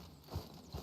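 Horse hooves in a video game land as two soft, low thuds a fraction of a second apart, faint against a quiet background.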